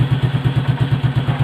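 A motorcycle engine idles steadily while warming up, its low, even putter pulsing in a regular rhythm close by, with no revving and no voices.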